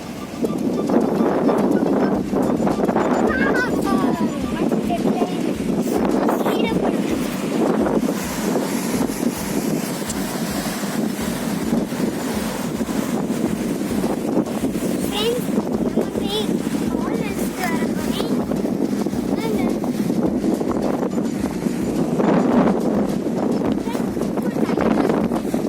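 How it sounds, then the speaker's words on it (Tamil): Sea waves at Kovalam beach wash in as a steady, broad roar mixed with wind buffeting the microphone, continuous and fairly loud for the whole stretch without talk. "கடல் அலை சத்தம் கேக்குதா ஃப்ரெண்ட்?"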